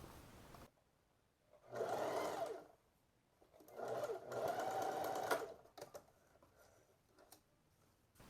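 A sewing machine stitches the seam of a peplum blouse in two bursts, the second longer, with quieter handling and rustling of fabric between them.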